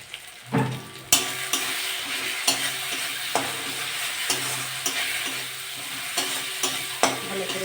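Spices and papaya sauté in a pan with a constant frying sizzle, punctuated by a steady series of close scraping stir strokes.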